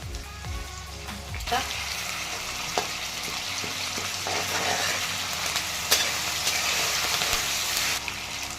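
Ginger garlic paste frying in hot oil with cumin and mustard seeds, a steady close sizzle with bursts of crackle and spatter running throughout, a few brief stirring knocks against the pan.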